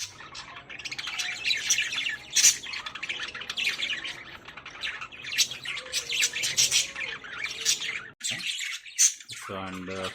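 Pet budgies in a cage chirp and squawk almost constantly, bright, close and busy, with a person's voice speaking now and then beneath the birdsong.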